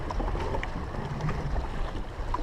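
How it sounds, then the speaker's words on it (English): Sail luffing aboard a sailboat in wind, a faint, irregular flutter and rustle of cloth over wind noise and water, fairly quiet and continuous with no talk. "You can hear it flapping. Hear it luffing."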